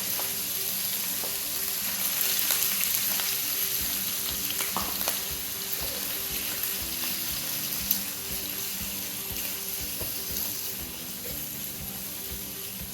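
Lobster and shrimp fry together in one pot, a continuous close sizzle with scattered spatula scrapes and clicks from stirring.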